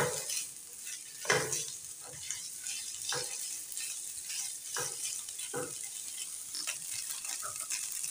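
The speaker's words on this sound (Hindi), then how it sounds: "चिकन शामिल करने के बाद हम इसे थोड़ा सा इसके अंदर भून लेंगे ताकि हमारा ये जो चिकन है ये क्रंची हो जाए" Chicken for patties being stir-fried in a pan, with a steady sizzle running throughout and several distinct scraping stirs of the utensil against the pan at irregular intervals, no one talking.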